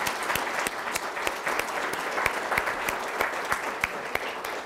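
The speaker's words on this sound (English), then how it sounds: "Let us give them a round of applause" Audience applause for an honoree's family at a Delaware Tech Owens Campus Hall of Fame ceremony: steady, even clapping from a moderate crowd, with a few sharp, distinct claps standing out near the microphone throughout.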